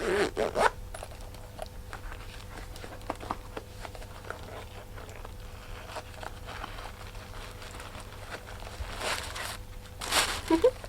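A boot's side zipper is drawn open in a series of short rasping pulls, with soft rustling and handling noises between them.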